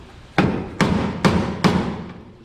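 A screwdriver pecks at the flange of a 1967 Chevelle's inner windshield pillar to find spot welds, giving four sharp, evenly spaced metallic impacts up close, each ringing briefly before the next.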